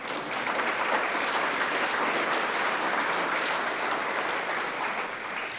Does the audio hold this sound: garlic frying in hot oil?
no